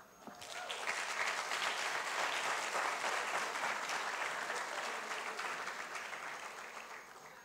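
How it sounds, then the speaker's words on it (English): Sustained audience applause from a crowd honoring the winning group, dense and steady for several seconds before easing slightly toward the end, with no talk over it. "Now, if you clap for this,"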